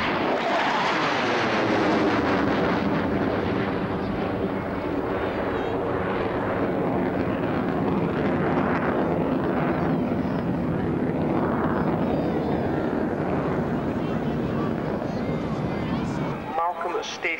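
A Panavia Tornado jet accelerates at the 1989 RAF Chivenor airshow, a loud, continuous roaring engine rush that dominates the entire stretch and cuts off sharply near the end, with a commentator talking over it.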